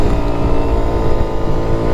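A Suzuki Burgman 200 scooter pulls away from a standing start at full throttle, its engine droning loud and steady with a continuous low rumble and no voices over it.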